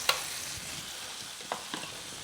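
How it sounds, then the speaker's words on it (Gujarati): Butter melting in hot oil in a pan makes a steady, moderate sizzle, with a sharp tap at the start and a couple of clinks near the end, and no voices. "अब इसमें थोड़ा सा ऑयल एंड हम थोड़ा सा बटर डालेंगे."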